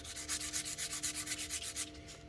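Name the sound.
sanding a Tesla wheel's curb rash with sandpaper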